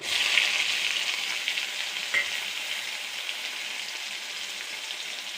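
Chillies, curry leaves and crushed onion frying in oil in a pan for a horse gram thoran: a steady, close, hissing sizzle that stays loud throughout and eases off only slightly.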